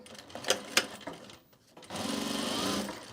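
Close sewing machine seaming together pieces of a self-drafted bag, preceded by a few sharp clicks and handling knocks, then a short steady motor whir with rapid needle rhythm.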